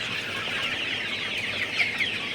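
A flock of 50-day-old Sonali super hybrid chickens clucks and chatters steadily, a busy, fairly quiet murmur of overlapping calls with no talking.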